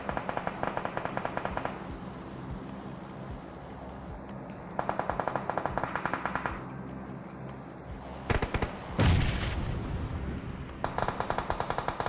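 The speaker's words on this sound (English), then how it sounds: "I think Zuko just tried to fire a rocket launcher at Psych" Rocket launcher fire in a PUBG Mobile esports scrim, heard as bursts of rapid crackling gunfire with a heavy blast near the end, repeating in separate volleys over steady game ambience.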